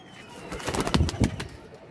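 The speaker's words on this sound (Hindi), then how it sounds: "ये गया जी माशाल्लाह कबूतर।" A pigeon bursts off a rooftop with a short flurry of flapping wings, a few quick loud beats clustered in the middle, with faint bird calls around it.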